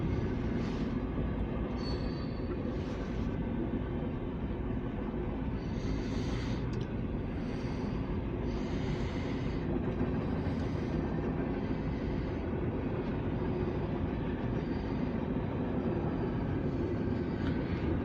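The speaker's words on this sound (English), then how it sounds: "This is going to be CSX Q367 meeting the Norfolk Southern C90" CSX and Norfolk Southern freight trains meet on the line with a steady, continuous rumble of rolling railcars, moderately loud, with some brief higher rattles, heard alone without talk.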